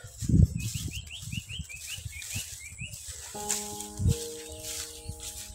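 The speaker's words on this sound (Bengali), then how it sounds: "পাখির শব্দ শুনতে পাচ্ছ তোমরা বন্ধুরা।" Birds chirp in a rural village in Barishal, Bangladesh, beside a pond bank. A quick run of faint, high chirps is followed by dull knocks and a soft lingering tonal hum.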